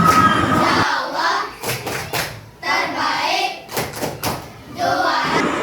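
Children in an elementary classroom play a rhythmic clapping game, crisp hand claps in short bursts between chanted voices, close and lively.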